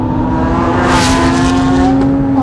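Sharkwerks Porsche GT3 RS with a 4.1 or 3.9 engine, a loud, sustained, near high-revving wail that holds steady with a rising whine, continuous for a couple of seconds with no talk.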